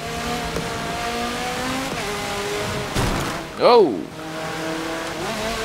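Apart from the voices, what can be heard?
race car engine downshifting in Forza Motorsport 7 video game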